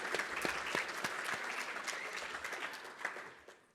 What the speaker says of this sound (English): One more big round of applause for Kurt, guys.